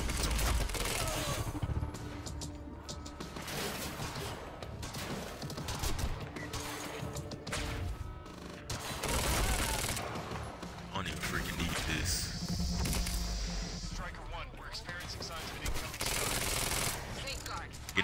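Burst-fire pistol gunshots in the video game Quantum Break, rapid clustered bangs amid a dense, chaotic firefight, with someone talking over the shooting.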